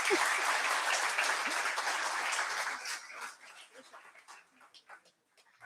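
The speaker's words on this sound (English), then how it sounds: "A huge round of applause for Sir" An audience at an MBA induction programme gives a round of applause. Dense, loud clapping from many people fills the first few seconds, then thins into scattered claps and fades out.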